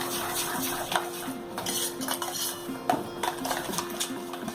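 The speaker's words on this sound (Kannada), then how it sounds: "ಸಕ್ಕರೆ ಹಾಗೂ ಕೇಸರಿ ದಳ ಇವೆರಡನ್ನು ಹಾಕ್ಕೊಂಡು ಸರಿಯಾಗಿ ಮಿಕ್ಸ್ ಮಾಡಿ" Sugar and saffron strands are stirred into mango pulp in a bowl, a spoon scraping and clinking against the dish in a busy, uneven rhythm, close and fairly loud.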